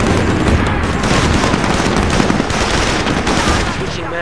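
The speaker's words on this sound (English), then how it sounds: "Heavy machine gun spotted." Sustained heavy machine gun fire in SOCOM 4, a dense, loud, continuous roar of rapid shots and booming impacts with no break for the full length, a voice faintly mixed underneath.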